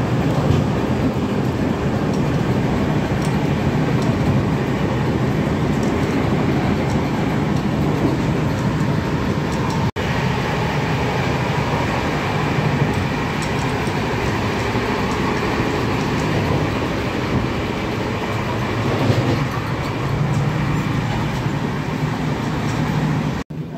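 Passenger train on the Howrah to Raipur route running steadily, a loud continuous rumble and rattle of carriages with broadband rail noise that persists without a break.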